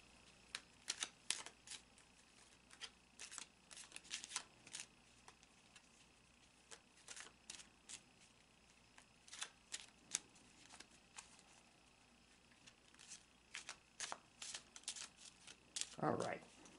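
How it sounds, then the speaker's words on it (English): Quiet, crisp bursts of riffling from a shuffled tarot and Lenormand deck repeat in short clusters with pauses between, ending in a slightly louder shuffle. "I'm going to take the remainder of the deck up, and I'm going to shuffle the cards"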